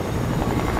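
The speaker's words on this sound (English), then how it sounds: "I did get a new helicopter" A helicopter in a video game drones with a loud, close, steady rotor throb that fills the whole brief moment without any talk.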